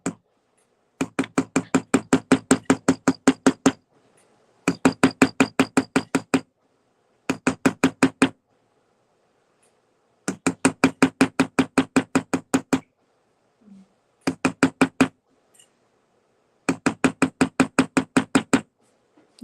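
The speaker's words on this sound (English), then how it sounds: "I'm just gonna hammer generally out to create those feather lines" A hammer strikes a metal bangle to texture feather lines, landing in rapid bursts of sharp, evenly spaced taps separated by short pauses, close and clear with no talking.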